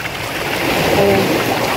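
Broadband rushing water from a small river or spring flowing out near a beach at Bangay Bangay, Salay, Misamis Oriental, steady and fairly loud throughout with no talking.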